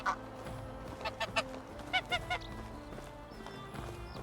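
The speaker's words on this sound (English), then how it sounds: "Oh wow, there's geese." Geese in the farm game Medieval Dynasty give a handful of short, nasal honks clustered in the middle, moderately close, over a soft ambient background, with no talk.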